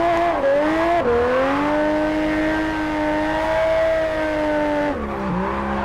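A Nissan Skyline R34 GT-R drifts in the Japanese Drift Master racing game, its engine holding a loud, steady high rev with tire squeal. Brief dips in pitch come near the start and again near the end.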